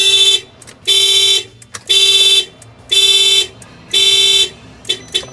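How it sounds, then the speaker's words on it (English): Alarm on a 2019 Isuzu NPR truck, tripped after a door is opened, gives loud, harsh horn-like blasts in a steady rhythm, about five long pulses a second apart, with short gaps between them. "The alarm is gonna trip."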